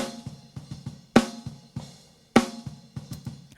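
A snare drum with top and bottom mics summed and reverb on the top mic, two loud cracking hits standing out among lighter ghost notes in a fast, quiet groove.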